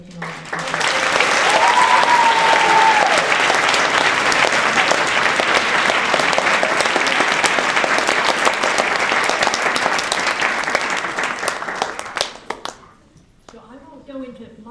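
An audience at an Oxford University Orchestra Afghan orchestra performance breaks into loud, sustained applause lasting about twelve seconds before fading, with a brief voice at the very end.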